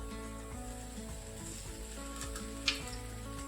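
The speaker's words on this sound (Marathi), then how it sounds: "त्यामुळे आपण हे मोठ्या गॅसवर परतून घेणार आहे दोन मिनटं आपले शिमला आणि कांदा परतून झाला" Capsicum and onion stir-frying in a pan on a high flame for chilli paneer, giving a steady, close sizzle with a light scrape partway through.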